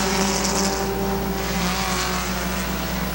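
Race cars roar around the Midvale Speedway oval, several engines droning loud and sustained, with pitch rising and shifting as cars run side by side into a turn.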